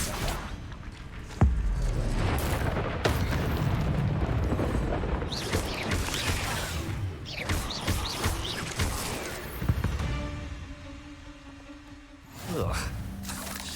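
Incendio fire spell bursts in Hogwarts Legacy, a loud booming, whooshing blast that swells and roars through most of the stretch, with crackling impacts and game effects layered over it before fading near the end.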